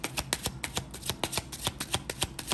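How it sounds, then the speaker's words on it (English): Kipper fortune-telling cards being shuffled during a tarot-style reading, a quick run of crisp papery riffles and slaps in an even rhythm, close and fairly quiet with no voice. "let's get a few Kipper cards"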